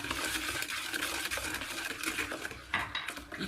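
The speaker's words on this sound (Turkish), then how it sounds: "İyice karıştırıyorum." A spoon works through spinach cake batter in a bowl after baking powder and vanilla are added, giving quick, repeated scraping and light clinking strokes with an uneven rhythm and no voices.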